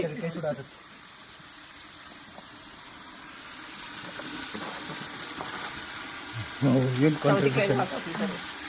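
Chopped potatoes, carrots and cucumber on low heat give a faint, steady sizzle with stirring, while voices come and go over it, loudest near the end.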